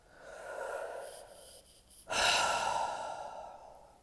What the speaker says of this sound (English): Nice inhale.